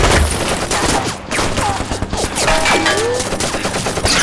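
Machine gun fire in a war drama battle scene, rapid loud bursts of overlapping shots crackling continuously, with whizzing, descending whines streaking through the gunfire.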